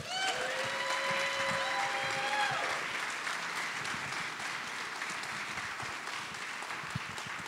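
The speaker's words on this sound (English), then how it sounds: "Let's get one more round of applause." Steady audience applause at a mountain film festival Q&A, dense and sustained through the whole stretch, with a few whistles riding over the clapping near the start.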